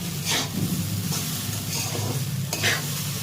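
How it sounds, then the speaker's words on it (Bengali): Chow mein noodles fry in hot oil with a steady, close sizzle and hiss, broken by soft scraping stirs every second or so, and no talking. "আগে আমি তেলে ভেজে নিচ্ছি"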